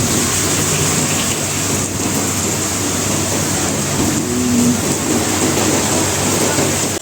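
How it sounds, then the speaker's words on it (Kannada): Steady rain hisses continuously across the whole stretch, a dense, even wash of noise with a faint low rumble beneath. "ನಾಲ್ಕಕ್ಕೆ ಮಳೆ ಬರ್ತಾ ಇದೆ"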